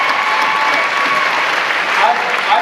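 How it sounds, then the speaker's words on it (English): Audience applause at a school awards ceremony, a dense, steady burst of many hands clapping together that holds evenly loud for the whole stretch, with no talk over it. "All right, so Caleb Esau, give him a round of applause, everybody."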